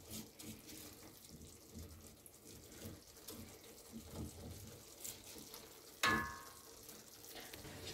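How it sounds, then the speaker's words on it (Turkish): Water poured into a pan of bulgur for Turkish kısır, a soft running, splashing flow heard close up in a quiet kitchen with no talking, ending in a sharper burst of pouring and splash near the end. "Şöyle üstünü basacak kadar su koyacağız."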